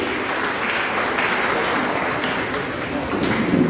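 Audience applause at an award ceremony, a dense, steady wash of clapping that holds at an even level for several seconds with no pauses or build.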